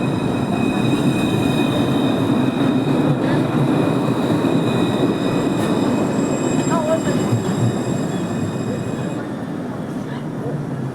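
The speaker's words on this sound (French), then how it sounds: "il y a la ligne 1 qui arrive à son terminus ici" A Montpellier TAM line 1 tram arriving at the Mosson terminus, a loud close rumble of wheels on rails with high squealing tones that fade out near the end, and brief voices in the background.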